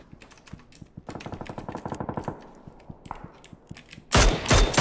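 Rapid bursts of automatic gunfire from PUBG in a duo squad match, a steady run of sharp shots through the middle followed by a loud, dense close-range volley at the end.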